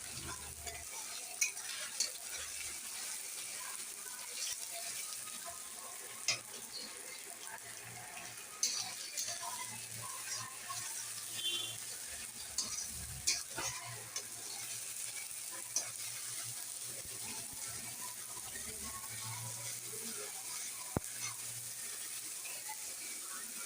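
Garlic frying in a pan for a chickpea curry, with a steady sizzle under repeated scraping of a spoon, punctuated by occasional sharper clacks against the pan across a continuous, moderately quiet hiss.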